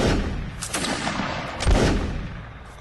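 A musket line volley in a Napoleonic-era line battle game: several loud, overlapping gunshot cracks fired in quick succession, with booming low rumble and a heavy report near the middle.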